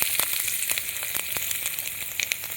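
Whole garlic cloves sizzle steadily in oil left over from frying fish, a dense crackling hiss broken by sharp pops and spatters throughout.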